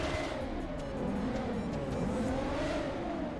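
Ferrari engine in GTA 5 revving continuously, a loud dense roar with shifting pitch that holds steady throughout, no talking.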